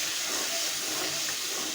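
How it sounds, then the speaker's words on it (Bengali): A splash of water hits frying spice paste for a mustard-style kochur loti dish, giving a loud, steady hiss of steam and sizzle that fills the whole short moment without a break. "মশলাটা পুড়ে না যায় এজন্য সামান্য একটু জল দিয়ে দিচ্ছি।"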